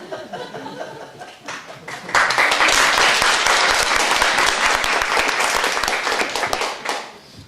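A crowd bursts into sustained applause after a brief quieter stretch, dense steady clapping that holds for several seconds before tapering off.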